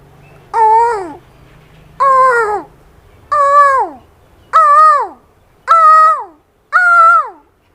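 A voice imitates the long call of a koel, six separate rising-and-falling whistled notes spaced evenly about a second apart, loud and close with no background sound.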